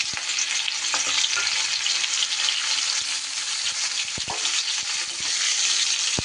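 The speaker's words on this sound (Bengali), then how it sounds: "এবার আমি তেল গরম হলে ফুলকপিগুলো ভেজে নেব।" Cauliflower frying in rice bran oil in a wok, a dense, continuous bright sizzle with a few sharp clicks of a spatula against the metal.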